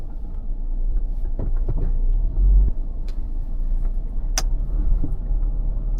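A Toyota Land Cruiser Prado parking beside another car, with a low steady engine rumble, a brief heavier surge midway and a few light clicks and rattles inside the cabin, no talk.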